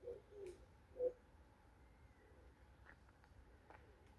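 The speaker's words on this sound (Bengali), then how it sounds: "এক মনে ঘুঘু পাখির দল ডেকে যাচ্ছে।" Doves in a flock call on a quiet late summer afternoon, a few soft low coos near the start, then faint distant chirps over a hushed outdoor background.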